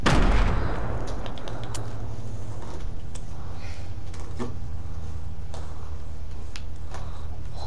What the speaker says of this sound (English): Oh, yes, the grenades.